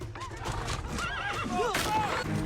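A horse neighs and whinnies in a rising, wavering call, with hoof clip-clops and people talking underneath.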